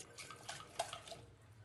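A little water poured onto soaked chickpeas in a pot, a faint, short splashing trickle heard close and quiet with no talking.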